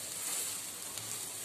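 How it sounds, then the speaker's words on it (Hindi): Two medium chopped onions fry in a pan, giving a steady, close, bright sizzle that holds evenly throughout with no voices. "ये हमने 2 दरमियानी प्याज ली थी, इसको चॉप कर लिया है और हम इसको फ्राई करेंगे"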